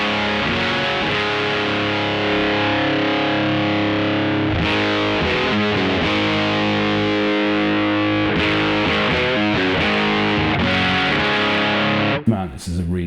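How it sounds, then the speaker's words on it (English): An electric guitar plays through a Pigtronix Disnortion Micro overdrive and fuzz pedal on its muff setting, giving loud, thick, heavily saturated chords that ring out continuously, with the last notes cutting off near the end. "Now, what that sounds like is kind of like a overdrive version of a big muff."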